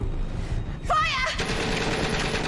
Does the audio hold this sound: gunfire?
yes